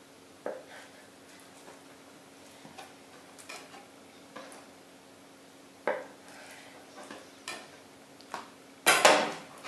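A knife taps against a cutting board in scattered strokes while cutting chicken fillet into pieces, quiet and close, with a sharper clatter near the end.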